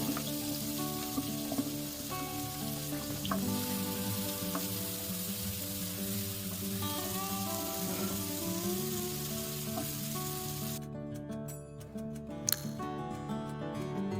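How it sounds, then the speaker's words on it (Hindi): Chopped onions and cumin seeds crackle in hot oil for a mixed vegetable dish, a steady close sizzle with faint background music throughout and a sharper crackle near the end. "अब जीरा डालेंगे। अब प्याज डालेंगे।"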